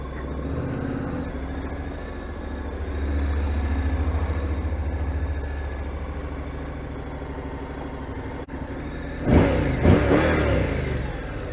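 A new motorbike engine runs steadily, then revs harder as the bike is put in gear and pulls away, with two sharp louder bursts near the end.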